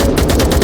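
Machine gun fire in the VR shooter Onward: a loud, dense burst of rapid automatic shots, very close and continuous, with no talk over it.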